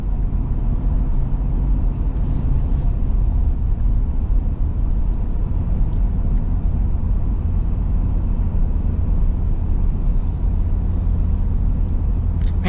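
A Ford Super Duty pickup with the 6.8L V8 drives while towing, giving a steady, continuous low engine and road rumble throughout with no clear gear changes or speech.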